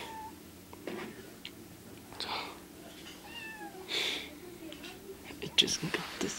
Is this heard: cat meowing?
yes